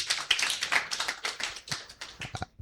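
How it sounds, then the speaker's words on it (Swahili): Applause from an audience at a Kenya I Want public forum in Bungoma County, with scattered, uneven clapping that sounds moderately close and thins out into a few separate claps near the end. "Si tumpe makofi jameni."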